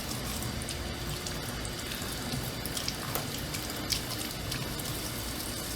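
Water running steadily to rinse soap out of reborn doll kit hair, a soft continuous splashing and trickling with no talking.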